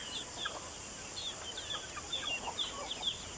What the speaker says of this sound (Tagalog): Ini itong mga manok diri guys.